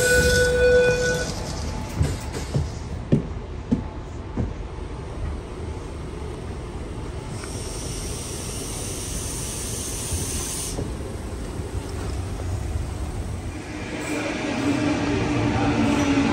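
A Sydney suburban train runs through Strathfield station, with a steady low rumble, hissing air and rattling carriages, plus a brief high whine at the start and a louder surge toward the end.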